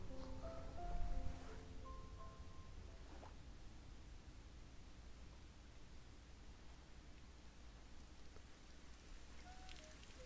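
Soft, steady rainfall in the video game COME, an even hiss of drops that continues alone after a few brief musical notes at the start.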